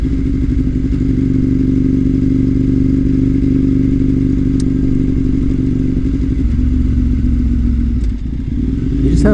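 A motorcycle being ridden, a steady loud engine drone held nearly constant throughout with some clatter, a brief dip and a rev-up near the end.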